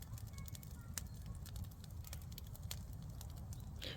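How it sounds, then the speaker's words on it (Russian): Campfire burning outdoors, with a low rumbling roar of flames dotted with sharp scattered crackles and pops, steady and moderately faint throughout. "Какой у нас красивый костер."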